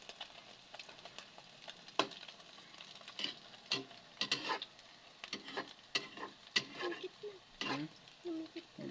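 Food stirred and fried in oil in a pan, with irregular clacks and scrapes of a utensil against the pan over a soft, crackling sizzle, close by.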